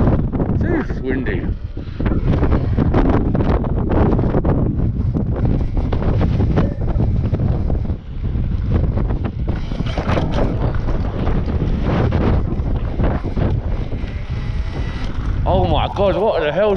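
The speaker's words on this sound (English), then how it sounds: "It's windy." Strong seaside wind roars and buffets the microphone continuously, loud and unbroken for the whole stretch.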